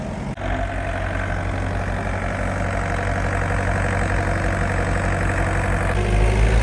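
A forklift engine idling in a shop, a continuous low rumbling drone with a steady rhythmic pulse, close and moderately loud, slightly swelling toward the end, no talking.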